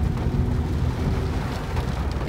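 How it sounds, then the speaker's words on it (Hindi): Heavy rain falls steadily during stormy weather, a dense, loud wash with low rumbling underneath and no voices, continuous from start to end. "बारिश हो रही है"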